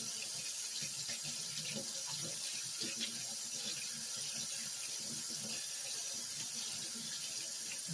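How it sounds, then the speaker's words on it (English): A mixer beater rinsed under a running kitchen tap while preparing sweet potato pie and lemon pound cake, giving a steady, close, continuous rush of water with small splashy variations throughout. "I'm going to rinse my beater."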